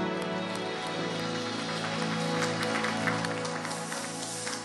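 A church congregation at a youth worship service claps together in a dense, continuous burst of applause, with sustained musical tones underneath.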